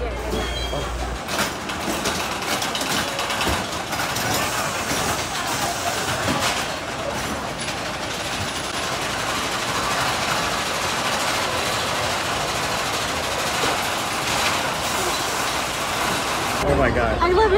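Black Diamond roller coaster dark ride at Knoebels rumbling along its track, a steady rolling rattle and clatter of the cars throughout, with riders talking over the noise.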